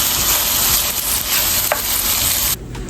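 Bacon sizzles loudly in a frying pan as it is stirred and broken up, a dense continuous crackle with a small scraping knock midway and a drop in intensity at the end.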